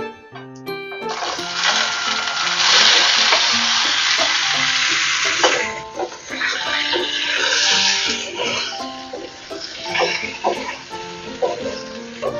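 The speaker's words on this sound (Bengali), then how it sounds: "এবারে আমি দিয়ে দিচ্ছি এই সেদ্ধ করা আলুটা" Boiled potatoes dropped into hot ghee with whole cumin seeds, bursting into a loud, dense sizzle that settles into steady frying with scattered clinks and scrapes, close up.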